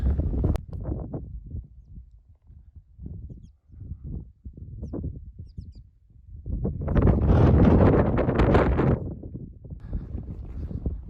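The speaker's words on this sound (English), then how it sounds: "heading back southeast on the windy ridge" Gusty wind on a mountain ridge of Mount Columbia, a 14,073-foot Colorado peak, buffets the microphone in bursts, then swells into a loud sustained roar before easing off.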